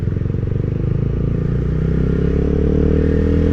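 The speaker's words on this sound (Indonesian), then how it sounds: "gue pakai knalpot racing" A Honda CBR150R fitted with a racing exhaust rides along, its engine a loud, close, throaty drone that rises steadily in pitch as it accelerates, with no voices over it.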